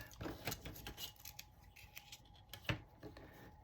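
Scissors snip through a vintage playing card being trimmed into a frame, a run of close, quiet crisp cuts with a sharper snip near the end, no talking.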